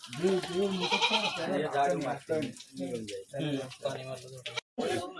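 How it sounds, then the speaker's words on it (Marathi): Goats bleat inside a goat-rearing shed, their wavering calls mixing with someone talking nearby throughout. "याच्यामध्ये सतरा शेळ्या आहेत"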